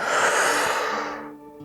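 One long, deep breathy exhale during a breathing exercise, close and full, trailing off slowly into quiet.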